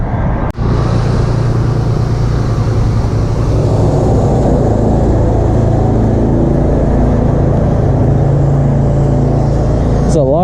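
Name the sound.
vehicle pulling pressure washing trailer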